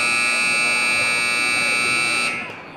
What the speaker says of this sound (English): that buzzer marks the end of the third quarter